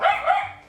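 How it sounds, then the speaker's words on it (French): A pet dog gives a single short, close bark that trails off over under a second, with no talking. "Là, c'est mon chien"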